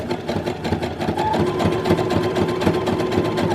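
A sewing machine stitches stretched bra fabric in a steady, fast mechanical whir with rapid even needle clatter, close and continuous throughout, with no talking.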